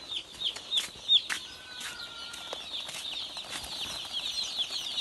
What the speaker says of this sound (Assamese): ফাইনেলি আহি গ'ল পোৱালি।